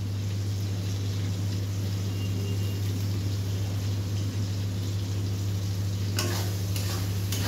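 Tomatoes fry in a pan for a vegetarian meal, giving a steady, close sizzle over a constant low hum, with a few brief scraping stirs near the end.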